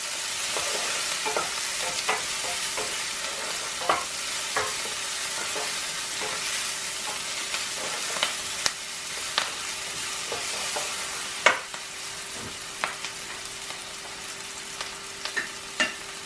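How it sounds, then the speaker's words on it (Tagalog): Minced aromatics sauté in a hot pan as food is stirred, with a steady sizzle and frequent small scrapes and clicks of a utensil against the pan, close and moderately loud, with no talking. "Gisa natin siya for about at least 2 minutes."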